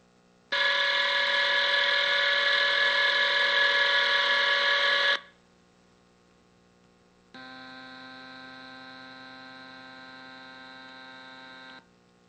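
Mechanical noise from a deep-sea underwater glider captured by its own hydrophone: two sustained tonal humming bursts, the first louder and about five seconds long, the second quieter and about four seconds, with steady hum in between.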